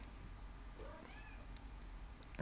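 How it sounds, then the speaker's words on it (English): A domestic cat meows softly indoors, a short rising-and-falling call near the middle, faint and fairly close over quiet room noise with scattered clicks. "That's my cat, Cheech, saying hello"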